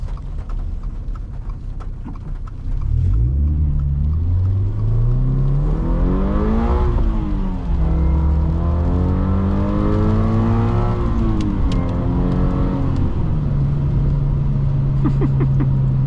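A 2023 Subaru BRZ engine pulls hard from inside the cabin, revs climbing through the gears with rising whines and brief dips at each shift, then settling into a steady cruise drone, loud and close with no talking.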